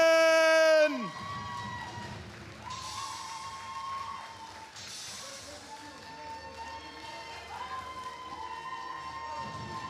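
Crowd at a charity boxing weigh-in applauds and cheers for a fighter from the red corner, a steady mass of clapping and shouting that carries on after a loud tonal opening, with voices over it.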